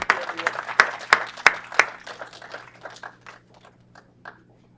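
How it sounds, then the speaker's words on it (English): Applause for sister city commissioners at an Aurora city council meeting: a burst of clapping with a few sharp louder claps, thinning out and fading over several seconds. "Round of applause for our sister city commissioners."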